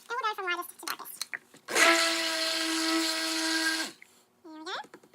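An electric stick blender mixes soap batter in a steady, buzzing whir that holds for about two seconds, with speech just before and after.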